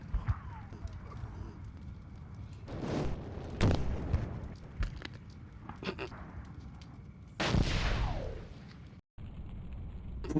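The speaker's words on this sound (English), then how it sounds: "I was just shooting the ground" Weapons fire in MechWarrior 2: Mercenaries, with repeated booming shots and heavy thuds against a constant low mechanical rumble, some sharp bursts louder than the rest, and a voice talking over the action.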